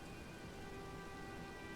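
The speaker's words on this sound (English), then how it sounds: "It is a rainy day, or possibly night, here on the Altus Plateau." Steady rain pours down on the Altus Plateau in Elden Ring, a dense, even hiss that holds at constant level throughout with no voices.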